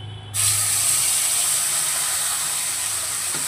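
Spice paste drops into hot mustard oil in a wok and bursts into a loud, sustained sizzling hiss that holds steady for a few seconds.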